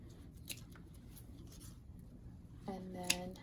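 Scissors cut ribbon tails for a floral bow, with a couple of quiet, close snips near the end against a faint background.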